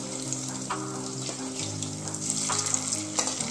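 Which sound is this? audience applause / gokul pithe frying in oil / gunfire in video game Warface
gokul pithe frying in oil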